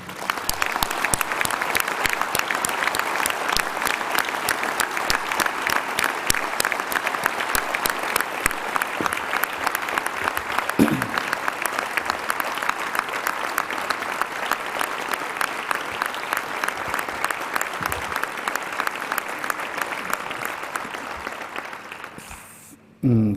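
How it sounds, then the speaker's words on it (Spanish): Sustained audience applause fills a speech event on democracy, with dense, steady clapping from a large crowd that holds strong for over twenty seconds before fading out near the end. "Os rogaría darle el aplauso que merece."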